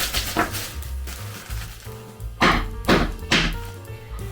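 A hammer strikes ice cubes in a vintage Mr Frosty drink maker mould, giving several sharp thwacks and thunks, three louder knocks landing close together near the end, with no talk over them.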